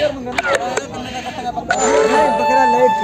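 A goat bleats loudly and wavers at close range at the Bargari goat market in Punjab, after some clanking and voices, people chatting in the background.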